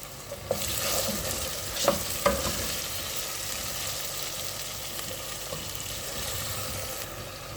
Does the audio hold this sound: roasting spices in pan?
yes